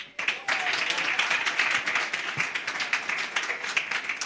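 An audience claps at a Nelson Mandela Day commemoration, with sharp, distinct hand claps in an uneven rhythm that continue steadily for several seconds, close and moderately loud.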